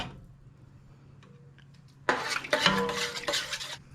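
After a near-silent start, a whisk starts working a makeshift roux into corn soup in a pot, making loud, close, continuous sloshing and metallic scraping against the pot for the last two seconds, with no voices.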